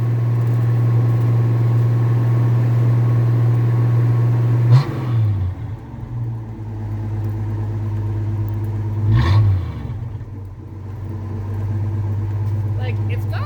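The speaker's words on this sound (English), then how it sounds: "watch what happens to the idle" A warmed-up car engine idles steadily and fairly close, a low constant drone that dips briefly twice as it settles, with a few light clatters.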